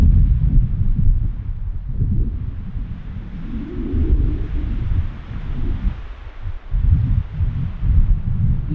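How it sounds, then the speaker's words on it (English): Strong outdoor wind buffeting a handheld camera on a mountainside, a loud continuous low roar with gusty surges and dips throughout. "the wind is bad. I mean, it's blowing my camera in my hand"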